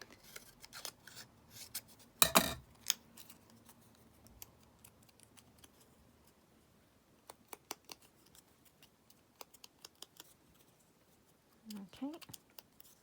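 Fabric for a quilt is cut with scissors close by, a loud crunching snip early on followed by scattered light clicks and snips, with someone talking intermittently.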